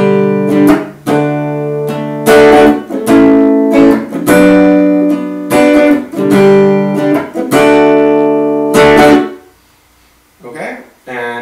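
Acoustic guitar playing the strumming pattern of a song, loud close rhythmic strums of ringing chords repeating steadily before stopping and fading near the end.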